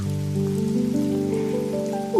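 Rain drums steadily on the ground and a house, a continuous close hiss of falling drops with sustained tonal sounds running underneath throughout.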